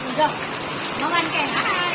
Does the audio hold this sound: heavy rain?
yes